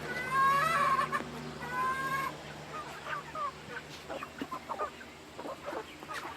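Chickens cluck and call in a backyard coop and run, a near, steady chatter of several birds with overlapping squawks and short clucks rising over a low constant background hum.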